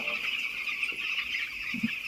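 Twelve-day-old poultry chicks in a shed peep and cheep softly and steadily, with a couple of louder chirps near the end over a constant background hum.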